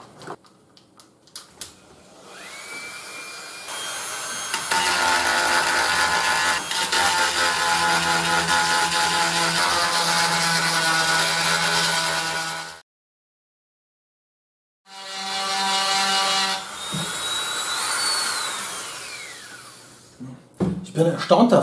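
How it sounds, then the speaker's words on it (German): A Dremel rotary tool cutting into plexiglass for a radio alarm clock display housing gives a loud, high, buzzing whine in two long bursts separated by a brief silence, the pitch sliding as the tool slows. "Dann kann ich nämlich den Dremel mit beiden Händen führen"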